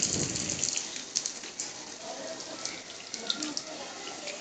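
Sliced onions sizzling in hot oil for Hyderabadi biryani, a dense, steady hissing crackle close up with scattered sharp pops, no voices over it.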